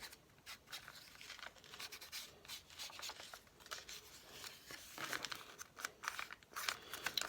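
Soft, close rubbing and scuffing as distressing ink is worked onto journal paper in a series of short, uneven strokes, quiet throughout with no talking.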